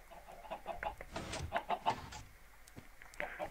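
Chickens in a Minecraft chicken farm cluck and squawk in short, overlapping bursts at close range, fairly quiet overall with a few sharper calls, and no one talking.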